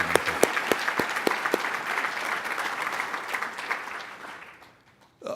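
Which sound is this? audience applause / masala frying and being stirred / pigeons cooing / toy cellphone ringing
audience applause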